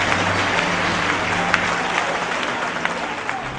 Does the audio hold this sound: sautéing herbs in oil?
no